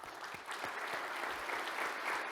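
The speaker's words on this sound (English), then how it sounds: "Round of applause." An audience at a business talk breaks into applause, a dense steady patter of clapping that swells after a quieter start and carries on alone.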